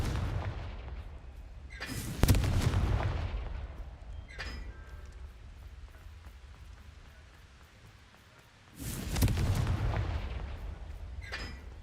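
Two heavy blasts from the Confringo spell in Hogwarts Legacy, each a sharp boom followed by a long crackling rumble, separated by several seconds of quieter low background.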